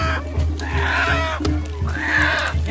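Chickens cluck and squawk loudly and up close at a chicken-pulling festival in San Sebastián Etla, with two longer agitated calls over steady crowd murmur and a low background hum.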